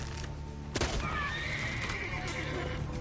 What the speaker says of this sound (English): Roach is a horse, he can't really do much.